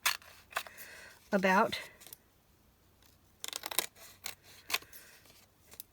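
Scissors snip through a paper napkin being trimmed for junk journaling, a few short crisp cuts scattered between bursts of nearby talk and rustling.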